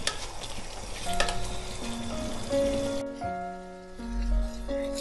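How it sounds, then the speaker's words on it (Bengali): Egg malai curry bubbles uncovered in a pan, a soft continuous sizzle and simmer heard up close, with faint tonal hums in the background. "এবারে আমি এটাকে ঢাকা ছাড়া আরও 1 মিনিট একটু ফুটিয়ে নেব"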